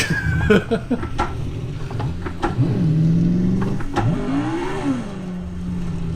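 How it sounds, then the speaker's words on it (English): Tires spinning and a car sliding in the Assetto Corsa racing game in VR, an engine revving and rising and falling in pitch with a squealing skid tone, fairly loud and continuous. "And my tires are dirty, and that's why I just spin. No, the car's just sliding."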